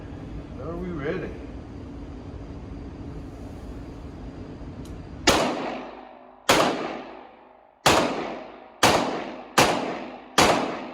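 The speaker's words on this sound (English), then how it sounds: "the first shot was a low shot because I didn't even feel the trigger coming back" Six loud, sharp shots from a Colt King Cobra revolver ring out in an uneven sequence, each followed by a short echoing decay, after a stretch of quieter background noise and brief talk.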